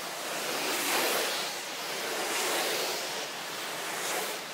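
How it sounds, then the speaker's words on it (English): A soft-wash sprayer sends soapy water hissing steadily onto house window glass and vinyl siding, a broad, even rush with gentle swells and no talk. "you can see the soapy water hitting the glass"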